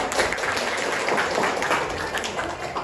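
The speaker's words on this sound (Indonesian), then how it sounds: "Oke, tepuk tangan." A classroom of students claps their hands together, a dense, fairly steady patter of many claps close by, sustained for a couple of seconds.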